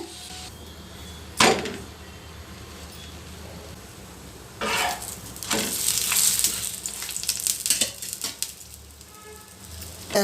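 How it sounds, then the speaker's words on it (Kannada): Oil sizzling on a heated tawa before chapati is cooked, a steady frying hiss with sharper crackling bursts that swell and fade, plus a few clinks close by. "ಹೆಂಚು ಕಾದಿದೆ ಈಗ ಸ್ವಲ್ಪ ಎಣ್ಣೆ ಹಾಕ್ತೀನಿ"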